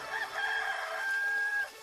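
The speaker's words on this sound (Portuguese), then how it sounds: "Imediatamente cantou o galo." A rooster crows once, a sustained, fairly clear call lasting close to two seconds with a steady tone that breaks off at the end, heard alone without talk.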